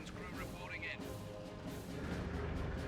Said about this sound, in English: Battle wagon still getting las cannon hits.